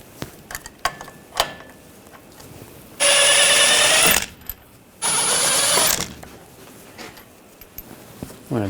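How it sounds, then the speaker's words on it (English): A ratchet with an 18mm socket works the brake caliper bolts loose on a 2014-2018 GMC Sierra 1500, heard as two loud mechanical bursts of about a second each, with light clicks and handling noises before and after. "We're going to take these two bolts out, use an 18mm socket."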